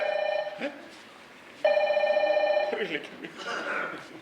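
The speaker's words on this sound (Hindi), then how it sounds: "रीटा भाभी का फोन है।" A telephone rings in repeated electronic bursts, with a pause between them, close and fairly loud. Voices speak around the rings.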